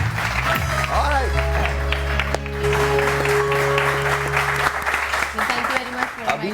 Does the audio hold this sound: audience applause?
yes